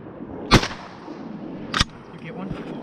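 Two sharp, loud shotgun blasts ring out while hunting on public land in Wisconsin, spaced about a second apart, each with a brief outdoor echo, and a fainter report follows after.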